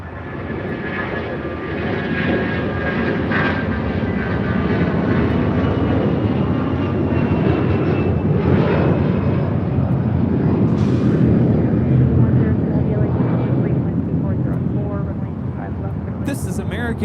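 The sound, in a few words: American Airlines A321 taking off at LAX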